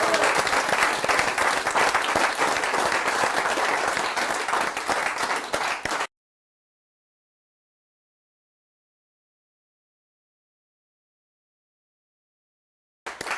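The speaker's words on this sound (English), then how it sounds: "we owe a big round of applause" Sustained loud applause from the audience at a pool league presentation night fills six seconds with dense clapping, then cuts to silence.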